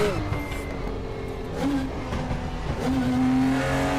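A race car engine in the RaceRoom racing game holds a steady loud drone, with revs climbing and dropping between gear changes across the whole stretch, and a faint voice now and then beneath it.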